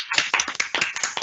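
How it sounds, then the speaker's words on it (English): A single person clapping, a quick series of about nine close, sharp claps in an uneven rhythm with no talk. "I think that's a clap from me there"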